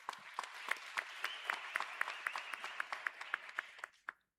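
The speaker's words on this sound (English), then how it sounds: "we must give the leaders of that action a round of applause" A crowd at a Marikana massacre commemoration claps for the leaders of the strike: a thin, fairly distant patter of individual claps that stops abruptly, with no speech over it.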